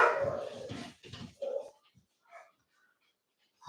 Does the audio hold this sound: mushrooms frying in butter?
no